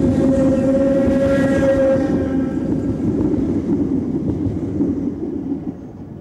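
An electric multiple unit train pulls away on a Southern line near Southampton, a loud steady rumble with a sustained tonal whine and horn-like notes early on that fade as it recedes.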